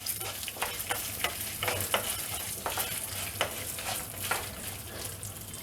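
Cumin, fenugreek, urad dal and unpeeled garlic cloves frying in a pan for tamarind-leaf powder, a steady close sizzle with repeated light scraping stirs at an irregular rhythm, no talk.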